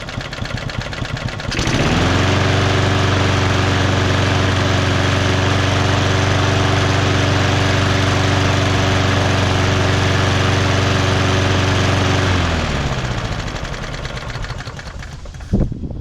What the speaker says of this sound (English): That's a very low idle.